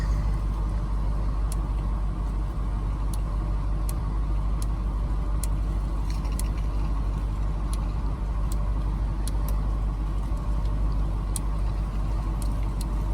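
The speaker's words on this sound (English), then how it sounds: "Truck is idling, great." A Ford Lightning pickup truck idles in a steady low engine rumble with a constant drone, close and continuous, with faint ticking clicks scattered through it.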